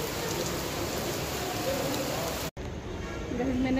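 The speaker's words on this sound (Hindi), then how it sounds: "ये देखो कितनी तेज़ बारिश हो रही है" Sudden heavy rain pours steadily as a dense, loud hiss across the whole stretch, with a brief cut partway through, on the road toward Ajmer in Rajasthan.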